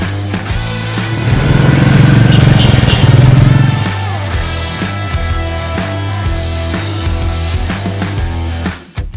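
A Royal Enfield motorcycle being ridden gives a loud, close engine roar that peaks over the first few seconds, then settles into a steadier throbbing drone with a short burst at the end.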